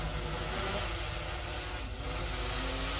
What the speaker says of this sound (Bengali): ড্রোনটা এখানে চলে আসছে